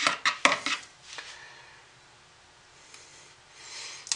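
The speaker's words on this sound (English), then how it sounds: "I'm just stirring a few of the air bubbles out." A utensil stirs handmade soap batter in a container, working air bubbles out, with a few quick scraping clinks at the start, then soft, faint stirring.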